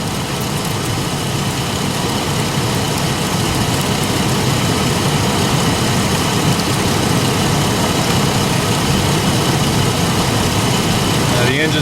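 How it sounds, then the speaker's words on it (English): A 1999 GMC Jimmy engine idles roughly with a dense, steady rumble, loud and close throughout with no pauses or speech over it. "The engine's running a little bit rough"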